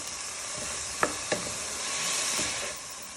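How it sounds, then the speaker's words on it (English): Sweet corn being stirred into a spicy Mexican meatball mixture in a pan, a soft continuous sizzle broken by two sharp utensil clinks near the start, no talking. "Now you want to add in your tin of sweet corn. Get it all out. You want to give that a good stir."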